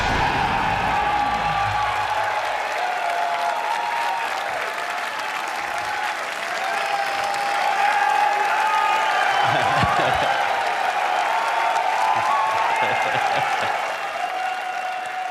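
A large crowd applauds steadily, with scattered cheers and whoops rising over the sustained clapping.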